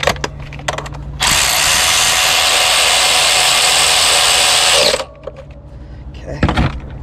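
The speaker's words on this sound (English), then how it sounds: "Let's see if my ratchet can fit in there." A ratchet tightening fuel injector bolts on a Ford engine during a home injector install, heard as a loud, steady mechanical whir that runs for about four seconds, then stops amid light clanking.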